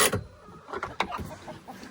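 Chickens outdoors give short, soft clucks in an irregular series of close, quiet calls over a brief moment.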